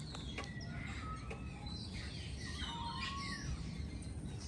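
Seagulls call repeatedly while flying around outdoors on a windy stormy day, their cries and squeals rising over a constant rush of wind and background noise, with no talk.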